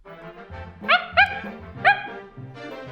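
A small dog gives three quick high-pitched barks and yips, close to the microphone, with faint sounds in between.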